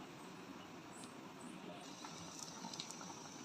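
Korean ramen noodles boiling in a pot of water, a faint, steady bubbling hiss with no talking.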